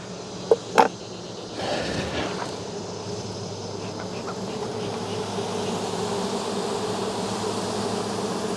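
Honey bees hum in a steady, dense drone around an opened hive during a late-summer inspection, preceded by a couple of sharp clicks and knocks from handling the frames; close and continuous, with no talk.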